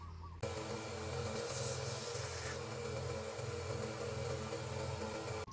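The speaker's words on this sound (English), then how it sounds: "and then I'm gonna switch over to some hand sanding." Steady, even hand sanding of a small titanium pendant, a continuous close rasping hiss that starts abruptly and runs without pause before stopping sharply.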